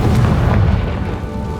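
A Confringo blasting spell in Hogwarts Legacy goes off as a loud, deep boom with a rumbling low-end burst that lingers and slowly fades over the moment, with no voices over it.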